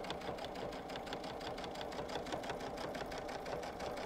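Sewing machine stitching a minky fabric pillowcase, a fast, even mechanical chatter of needle strokes running steadily and fairly faint, with no talk over it.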